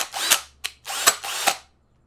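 A handheld power drill whirs in four short bursts, the first and last two longer, the second a brief blip, fairly close and alone before falling silent.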